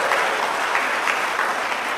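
An audience at a church worship service claps for the fathers, a dense steady applause from many hands, loud and filling the room throughout.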